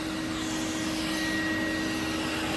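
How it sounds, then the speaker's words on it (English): A household hoover runs steadily and loudly near the mic, its constant motor drone and suction whine filling the whole stretch while it sucks up workshop debris, with no talk over it. "You're not meant to put your glove in the hoover."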